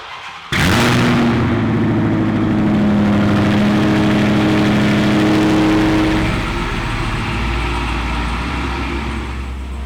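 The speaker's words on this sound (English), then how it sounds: "You guys wanna hear this cold start?" A Dodge Demon cold-starts at the Clean Culture 2019 car show: a sudden loud engine catch and rev, then a deep, steady, rumbling idle that holds close and strong.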